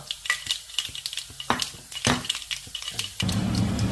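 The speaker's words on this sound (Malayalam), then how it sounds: "നമ്മുടെ കടുകും ഉലുവായും ഒന്ന് പൊട്ടിക്കോട്ടെ കേട്ടോ." Mustard and fenugreek seeds spluttering in hot oil for an apple pickle, sharp close pops and crackles in irregular bursts, ending in a denser sizzle, no voices.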